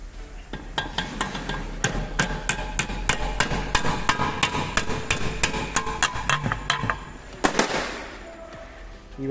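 Metal part of a rotary screw compressor being tapped during disassembly to loosen it, producing a rapid series of sharp, close knocks over several seconds followed by a few louder clanks.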